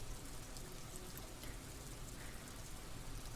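Steady rain in the video game Disco Elysium, a dense even hiss of falling water that carries on without a break at a low, quiet level, with no voices over it.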